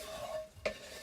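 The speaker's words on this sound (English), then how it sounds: "you are frying it off a little bit" Quiet, steady sizzling of food frying in a pan, with a brief scrape partway through.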